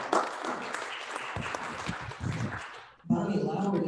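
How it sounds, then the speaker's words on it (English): Applause at a Rotary club meeting honoring a member, a dense wash of clapping that dips briefly near the end before resuming, with voices mixed into the crowd noise. "She deserves a round of applause."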